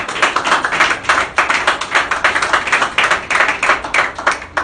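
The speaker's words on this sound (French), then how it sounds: "Acclamez très fort pour les Seigneur." A church congregation claps loudly in quick rhythmic bursts, a dense, lively patter that keeps going without pause.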